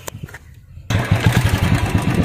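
A Royal Enfield Bullet motorcycle fitted with an Indori silencer starts up after quiet handling noises, then settles into a loud, close, thumping idle with a steady pulsing rhythm.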